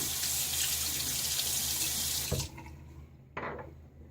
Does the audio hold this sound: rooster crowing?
no